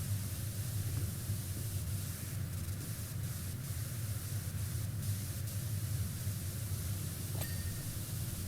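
A pressure washer in the video game PowerWash Simulator sprays water in a steady, hissing rush like white noise, continuous and even throughout with no talking.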